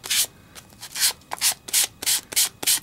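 A sanding block rubs across white-core scrapbooking paper in quick back-and-forth strokes, about nine short raspy bursts with brief pauses between, close and crisp with no talking.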